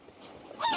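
Geese honking on a farm yard, a faint distant call rising near the end of a quiet, short moment.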